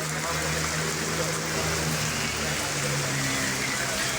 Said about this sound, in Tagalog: Ayan, umulan na naman, umulan